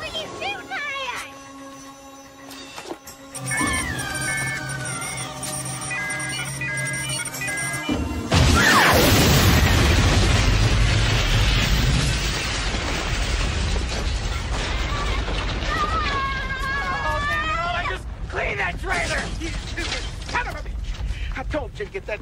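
A gas line explosion in a 1995 film scene: a sudden loud blast erupts after a mechanical humming stretch, followed by a sustained roaring, crackling wash of debris and fire, with voices and electronic tones heard around it.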